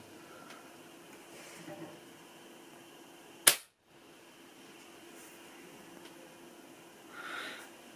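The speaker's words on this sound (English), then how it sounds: "take the first shot. This is without any silencer." A BSA Scorpion T-10 PCP air rifle fires once with no silencer fitted, giving a single sharp, loud crack that cuts off abruptly into quiet room tone.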